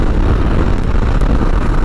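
Royal Enfield Himalayan adventure motorcycle at full throttle around 80 mph, a steady dense roar of engine and rushing wind, loud and unbroken throughout with no speech.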